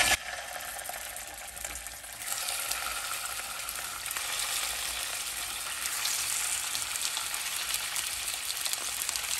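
Chicken pieces sizzle in hot oil in a frying pan over medium flame, a steady crackling hiss that grows slightly louder after the first couple of seconds.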